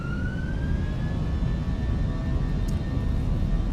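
The engines of an Airbus A320-200 in a flight simulator spool up to takeoff thrust. A loud, steady jet roar carries a whining tone that climbs slowly as power builds.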